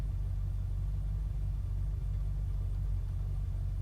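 A steady, low engine rumble drones on without a break, like a car cruising at an even speed in the video game Unturned, with no voices over it.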